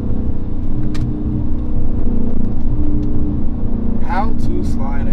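A Dodge Challenger Scat Pack 392 V8 rumbles steadily from inside the cabin while sliding through a turn, a deep continuous drone with a brief rising whine near the end, and a voice speaks over it.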